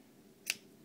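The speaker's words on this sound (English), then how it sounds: "And then we're going to just cut" One quick, crisp scissor snip cutting a length of ribbon for a handmade birthday card, close and brief in a quiet room with no talk.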